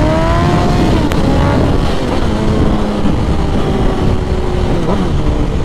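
A 2001 Suzuki GSX-R 1000 sport motorcycle engine drones steadily at cruising speed, with rising and falling tonal engine pitch under heavy wind rush, loud and continuous throughout.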